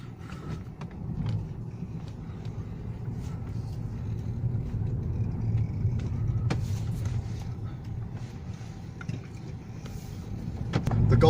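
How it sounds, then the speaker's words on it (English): Volkswagen Golf GT 3-door hatchback with firmer sport suspension, heard from inside while driving: a steady low engine and road rumble with faint interior mechanical clicks, swelling slightly louder near the end. "Let's go for a drive and see how it feels."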